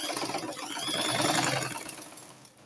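Close by, a sewing machine runs in a steady, fast whir as it stitches fabric for an Agbada Bubu gown, slowing toward the end.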